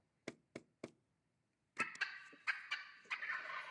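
A wild turkey gobbles, starting with three short sharp notes, then a brief pause before a rapid rattling burst of gobbling calls, fairly close and clear against a quiet background.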